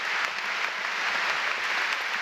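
Football crowd in a stadium at a Brighton and Hove Albion versus Norwich match applauding in a steady, dense wash of clapping that holds evenly throughout, loud and without talk.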